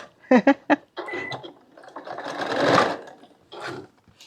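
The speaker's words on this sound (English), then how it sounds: "Now this one I'm going to double sew as well." A sewing machine stitches a quilt block in short bursts, with a few quick rapid runs followed by a longer steady whirring stretch and a final short burst, loud and close.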